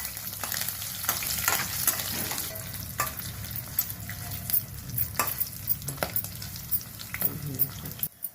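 Dried red chillies, green chillies and curry leaves fry in a pan, giving a steady close sizzle with frequent scraping stirs and occasional sharp crackles, no voices.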